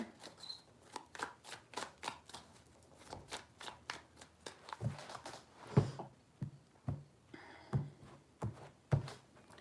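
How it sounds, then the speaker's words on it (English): Tarot cards shuffled by hand in a series of quick riffling bursts and soft slaps, close and fairly quiet, with no talking. "Three shuffles for Cancer."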